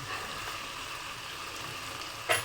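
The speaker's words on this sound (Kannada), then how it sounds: "ಒಂದು ಬಟ್ಲೆ ಹೆಸರು ಕಾಳನ್ನ ಹಾಕೊಂಡು ಫ್ರೈ ಮಾಡೋಣ ಚೆನ್ನಾಗಿ" Green gram frying in a pan for pulao, a soft steady sizzle running throughout, with a brief sharper stir or clatter near the end.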